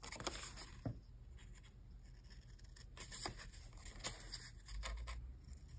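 Quiet, close snips and rustles of scissors cutting the square corners of folded paper for an art journal pocket, a few separate crisp cuts amid soft paper handling.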